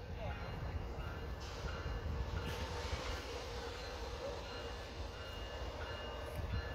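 Freight train locomotive powering up as it rolls past Fullerton Station, a loud, steady rumble and roar close by that holds throughout with a high metallic whine, with a voice briefly audible beneath.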